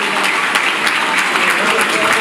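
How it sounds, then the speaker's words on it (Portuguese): Church congregation applauding the name of Jesus during a sermon, a steady dense wash of clapping that fills the short stretch, with scattered louder claps and possible voices mixed in. "Você pode aplaudir o nome de Jesus com vontade?"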